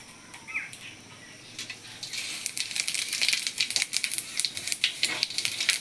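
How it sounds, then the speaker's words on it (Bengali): Panch phoron spices hit hot oil alongside a dried chilli and crackle in quick, irregular pops that build in density over a few seconds, close and fairly quiet. "এখন আমি ফোড়নে 5 ফোড়ন দিব।"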